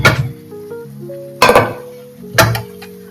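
A metal lid on a pot of cooked mutton in a home kitchen gives three sharp clanks spaced about a second apart, each followed by a ringing metallic tone that fades, near and fairly loud.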